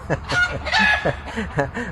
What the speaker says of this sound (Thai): หมาเฮาแล้วบัดเดี๋ยวนี้ไก่เอาแล้วเนาะ